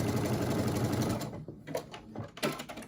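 A home sewing machine stitches a garment top in a steady whirring run, then breaks into short stop-start bursts of stitching with brief pauses between them.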